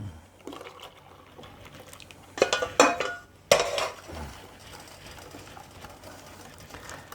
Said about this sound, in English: I'm going to stir this all around, then add the rest of it